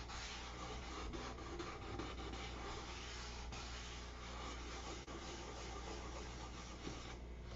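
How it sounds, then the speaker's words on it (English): A hand sands a dyed wood finish with steady, quiet rubbing strokes, a soft continuous scratching up close with no talking. "Sand it off."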